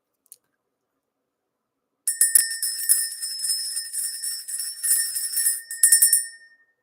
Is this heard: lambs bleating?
no